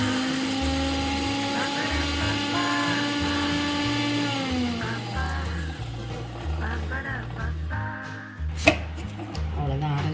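Mixer grinder grinding pepper and cumin into powder for tomato rasam: a loud motor whine for about four seconds that winds down, then a voice talking over clatter.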